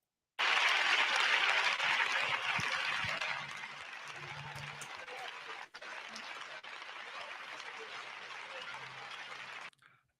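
A crowd gives a standing ovation, breaking into loud, sustained applause that gradually settles into steady clapping, continuing for several seconds before stopping abruptly.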